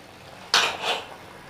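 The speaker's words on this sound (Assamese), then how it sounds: "এয়া মই কুকাৰৰ লিডখন লগাই দিলোঁ" A pressure cooker lid is set onto a cooker of boiling water, a single brief metallic clack followed by a short scraping settle, close and alone.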